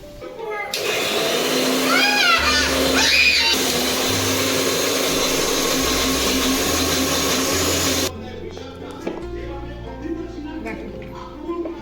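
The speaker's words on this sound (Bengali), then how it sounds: "আমি মিক্সিতেই বেটে নিচ্ছি।" Electric mixer grinder whirring loudly as it grinds jute leaves for a Bengali curry, running in a steady high whine for several seconds before cutting off, with a voice talking over and after it.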